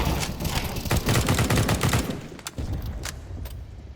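Scout sniper rifle shots in a Counter-Strike-style video game match, with dense booming gunfire and rapid blasts packed into the first half, then a few sharper isolated cracks trailing off, loud and continuous.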